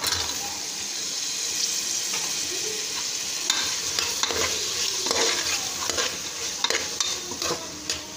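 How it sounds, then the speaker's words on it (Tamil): Vegetable kalani kulambu curry with brinjal and drumstick being stirred in a pan, a steady close scraping and clattering over a soft background sizzle, with no talking. "நல்லா கிண்டிக்கோங்க."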